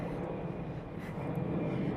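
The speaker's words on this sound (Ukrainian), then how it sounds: "Тут навіть літають літаки." Airplanes fly overhead in Brussels, Belgium, a steady low distant engine roar that holds evenly throughout with no talking.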